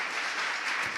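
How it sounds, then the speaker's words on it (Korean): Steady, even applause from a forum audience in a hall during a business talk, a continuous wash of many hands clapping for a brief second. "예, 박수 쳐도 됩니다."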